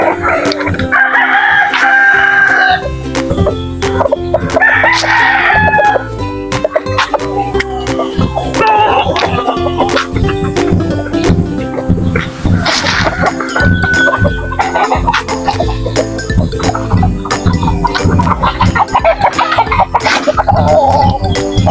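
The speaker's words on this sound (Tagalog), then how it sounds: "Ito po yung mga sisiw natin mga idol." Chicks and chickens being fed on a small farm, with clucking, chirping and a rooster's crow standing out in bursts over steady background clatter.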